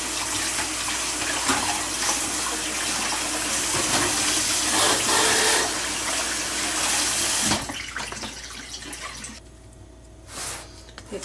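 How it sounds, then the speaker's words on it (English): Water runs steadily from a kitchen tap while fingers are rinsed under it, a loud continuous rush that cuts off partway through, leaving quieter trickles and a brief final splash. "I'm going to get some of this washed off."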